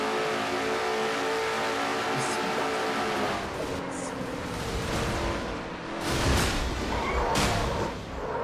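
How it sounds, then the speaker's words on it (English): Onboard race car engine in a NASCAR-style sim racing video game, a sustained high revving drone with rising and falling pitch as the car shifts, plus brief bursts of noise near the end. "Let's go on board Seth Cole's car"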